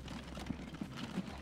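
Horses clip-clopping in the video game Transport Fever 2, a rapid, even run of hoof beats at moderate volume with no talk over it.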